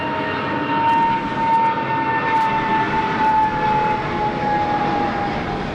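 A jet airliner lands on runway 16 right at Sydney Airport on a rainy night, its engines a steady broad roar with a faint tonal whine running under heavy rain noise throughout.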